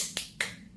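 Two sharp hand claps from a teacher leading an Indonesian third-grade class cheer, spaced about a quarter second apart in a quiet room.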